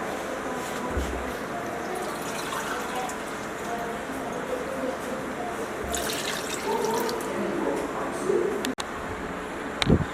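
Two glasses of water pour steadily into a karahi with mutton for several seconds, a continuous splashing rush with faint background sounds and a few clinks near the end.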